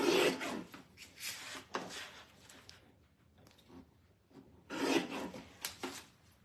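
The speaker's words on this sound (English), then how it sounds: "I have my trimmer just off camera, so let me just trim this really quick." Paper trimmer cutting card stock close by, with several short scraping, rasping strokes in bursts separated by quiet pauses.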